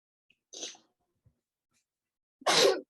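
A person sneezes twice indoors: a small, soft sneeze followed about two seconds later by a louder, fuller one, with near silence between.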